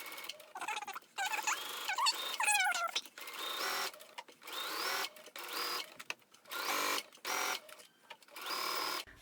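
Home sewing machine stitching the side seam of a fabric wristlet at a quarter-inch allowance, running in several bursts of close, steady mechanical whirring separated by brief pauses, with no talk.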